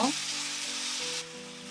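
Potatoes and onions sizzle in a pan for Korean braised potatoes as seasoning sauce goes in, a steady close hiss that softens slightly near the end, with a brief voice at the very start.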